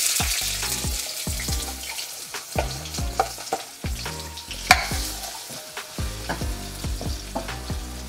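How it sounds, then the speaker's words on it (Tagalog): Onion sizzles in hot cooking oil over medium heat while a utensil stirs and scrapes the pan in repeated close knocks, with no talking. "magpainit kayo ng cooking oil. Tapos ilagay nyo na tong onion"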